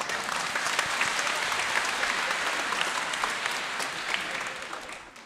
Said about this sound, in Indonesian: Maka tepuk tangan sekali lagi.